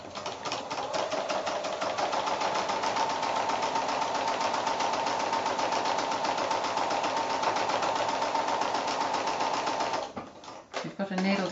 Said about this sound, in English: Just a straight stitch right up close in the ditch there